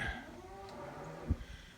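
Cattle moo faintly in a barn during hay feeding, a quiet, drawn-out low call with a soft knock of gates or hooves nearby and no talking.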